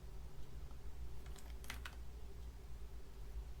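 Quiet typing on a computer keyboard, a short burst of a few soft key clicks in the middle against a faint steady background hum.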